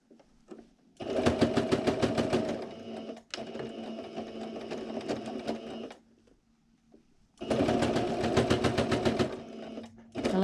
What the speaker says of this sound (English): we're gonna just stitch down on both sides